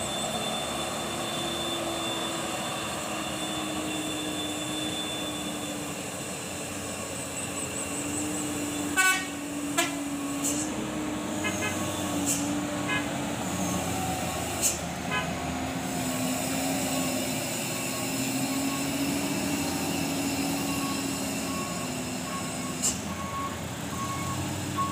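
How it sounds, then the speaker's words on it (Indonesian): Hino truck descending a steep curve toward Padang, its engine rumbling steadily while sharp reversing beeps and short horn toots ring out in scattered bursts over the drone. "Truk Hinau Ganteng menuruni tikungan ekstrim menuju Kota Padang."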